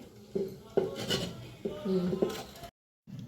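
A lid set down and pressed onto a pot while making chitoi pitha, a few scraping, grinding rubs and knocks of metal, close and fairly loud, ending in a short silence.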